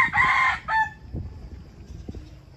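A Filipino backyard gamecock crows loudly and close by at the start, a long strained call, followed by quieter rustling and faint clucks.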